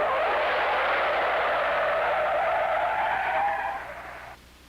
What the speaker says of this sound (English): we'll tromp on our brakes hard for a real panic stop